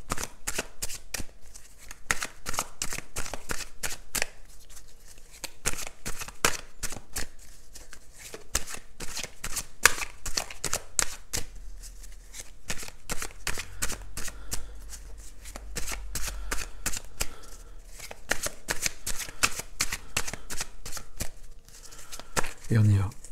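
Tarot cards being shuffled by hand in a steady run of crisp, rapid riffles and flicks, close and fairly loud, with a brief pause mid-way and a faint low rumble underneath; nobody speaks over the shuffling.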